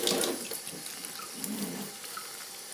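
Cold tap water pours over cucumbers and salt in a bowl, a steady close splashing stream that swells briefly midway while preparing sweet relish.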